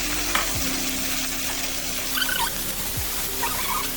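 Gravy poured into a pan and stirred while cooking, giving a steady close sizzle with faint scraping stir sounds and a couple of brief squeaks, no talking.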